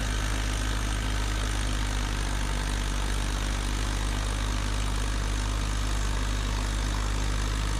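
Kubota LX2610 compact tractor in low range four-wheel drive, crawling slowly through packed snow; a steady, continuous diesel engine drone holds near and even throughout with no talk.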